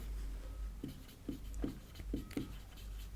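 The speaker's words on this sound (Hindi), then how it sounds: "तो पहले हम नोट्स यहाँ पर लिखते हैं।" A teacher writes notes by hand, making about six evenly spaced, faint scratchy strokes over a low steady background hum.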